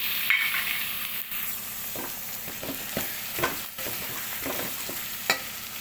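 Salted eggplant pieces added to a pan for a tomato curry sizzle and fry steadily, with a spoon stirring and scraping in several distinct strokes over the constant crackle.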